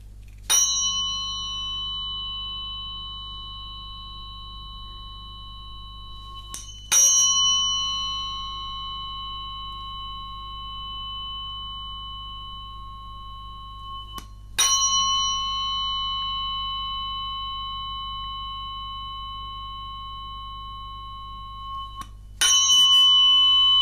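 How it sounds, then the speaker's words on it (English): A 174 Hz tuning fork struck four times at even intervals of roughly seven seconds, each strike giving a bright metallic ring with a long, slowly fading sustain over a steady low hum. "I'm not changing the tuning fork, it's 174 Hertz."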